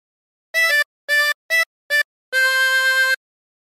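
Chromatic harmonica plays an opening phrase of Mary Had a Little Lamb: four short separate notes followed by one longer held note, clear and close with silence between notes.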